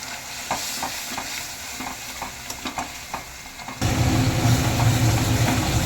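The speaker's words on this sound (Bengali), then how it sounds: "এবার আমি কাজু আর মগজদানা বেটে রেখেছিলাম, ওটা দিয়ে দিচ্ছি। দিয়ে ভালো করে কষিয়ে নেবো।" A paste of ground cashews and melon seeds being stir-fried into a masala, with rhythmic spatula scrapes over a soft sizzle that swells into a louder, denser frying hiss partway through; no talking.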